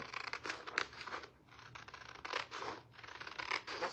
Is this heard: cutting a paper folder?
yes